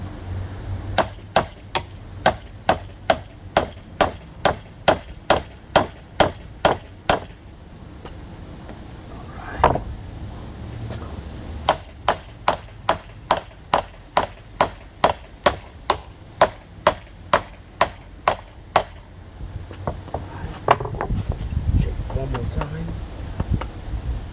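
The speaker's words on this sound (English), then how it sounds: "Keep hammering." Repeated sharp metallic hammer blows in steady rhythm on a rear suspension bushing of a 2003 Honda Civic Si, two long runs of strikes with a short pause between, ending with rustling and handling noise.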